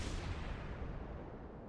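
Naval gunfire from the Japanese warship Izumo in World of Warships, heard as a steady, dense low rumble of booming shots and rolling blasts that stays loud and continuous throughout, with no voices.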